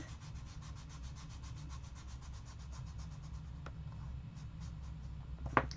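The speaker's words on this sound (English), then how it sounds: "So I'm trying now to push the colors into my paper" Soft pastels rub onto paper in quiet, continuous scratchy strokes with a low background hum, and a sharper tap lands near the end.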